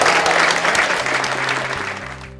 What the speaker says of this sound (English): Amidst the cheering from the audience, many of them stood up as a sign of respect to the congressman